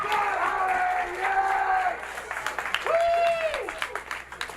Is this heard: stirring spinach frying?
no